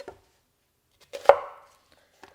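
A knife cuts through an onion and strikes a cutting board once with a single crisp chop, preceded and followed by small faint handling taps in an otherwise quiet kitchen.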